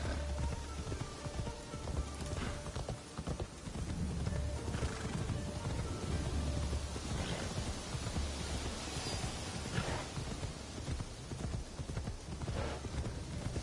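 Horse hooves in the video game Assassin's Creed Shadows clip-clop steadily on a hard surface amid a dense, hissing ambient background, fairly faint throughout.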